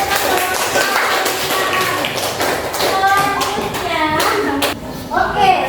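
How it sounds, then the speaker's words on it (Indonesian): A classroom group of students claps after a presentation during a teaching exam, steady hand-clapping lasting several seconds with children's voices chattering underneath, close and loud. "Oke, pada aplaus dulu."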